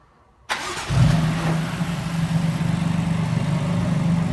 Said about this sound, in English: Chris, let's hear how these downpipes sound.